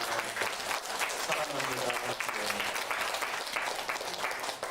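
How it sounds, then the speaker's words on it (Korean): A church congregation claps for their parents during a Parents' Sunday morning service, steady dense applause filling the room with a brief spoken phrase over it. "부모님께 감사의 박수와 인사를 크게 드립니다"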